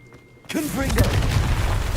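A sudden heavy boom as the Confringo spell blasts in Hogwarts Legacy on PC, erupting loud after a brief quiet and rumbling on with crackling debris, a voice briefly heard over it.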